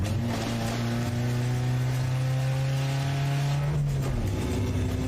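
A car engine roars through a broken exhaust, a loud, raw, droning blare with a steady low throb that rises slightly, then drops off near the end as the engine eases.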